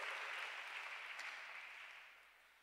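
Congregation applauding during a Sunday French-language church service, a steady wash of clapping that starts strong and gradually fades over a few seconds, with no talking.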